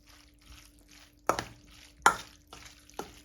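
Chicken wings being tossed with crushed Flamin' Hot Cheetos in a bowl, giving a few sharp crunchy scrapes spaced apart over near silence.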